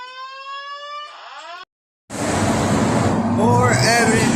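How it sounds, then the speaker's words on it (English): A steady electronic alarm tone rings with harmonic layers, cuts out briefly, then loud broadband noise with rising and falling whoops fills the rest. "Another false alarm."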